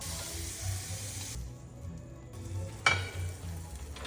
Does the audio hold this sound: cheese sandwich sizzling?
yes